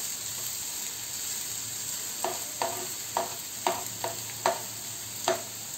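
Finely chopped onion frying in hot oil, a soft continuous sizzle with a faint hum beneath, overlaid by a series of about seven light tapping stirs in an uneven rhythm.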